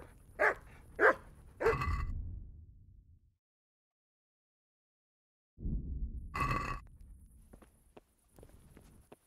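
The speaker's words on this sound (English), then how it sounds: "The dog has to be aggroed." A dog in the medieval game Kingdom Come: Deliverance gives three sharp barks in quick succession, then falls silent before another loud bark, with faint footsteps and small thuds afterward.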